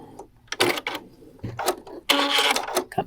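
Brother sewing machine piecing fabric with gray thread, its stitching running in several short bursts separated by pauses, close and fairly loud.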